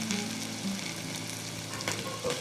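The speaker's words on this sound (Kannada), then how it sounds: "1-2 ನಿಮಿಷ ಕ್ಲೀನ್ ಹುರ್ಕೊಂಬಿಡಿ." Dry chili powder and salt fry in a hot pan for a potato kichadi, giving a soft, steady sizzle with faint stirring scrapes at low volume.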